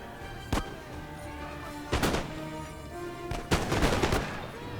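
Musket volleys crack out in a Napoleon: Total War battle, three sharp rolling bursts spaced a second or so apart, loud over a constant low battlefield rumble.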